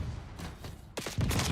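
Rapid submachine gun bursts in the Black Ops 6 video game, a short quieter stretch followed by loud, close, sharp repeated shots in quick succession.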